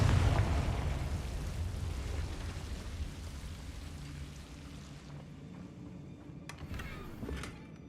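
A Confringo fire spell bursts in the Hogwarts Legacy game, a loud low blast at the start that rumbles and fades over several seconds, followed by a few faint sharp crackles and pops near the end.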